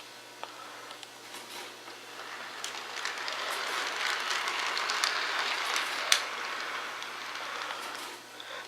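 A Lionel O-gauge model train consist rolls steadily along its track, producing a continuous soft rumble and rattle that stays at a moderate level for several seconds, with a sharp click partway through and no talk.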